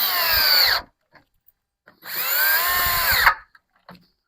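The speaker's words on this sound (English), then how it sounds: "I'm just going to eyeball that board so they're in the center of each one and drill the rest of them." A power drill bores holes through a wooden roof board while a Yardistry Contemporary gazebo is being assembled, giving two loud, steady whirring bursts close by, each under a second or more, separated by a pause with small clicks and handling knocks.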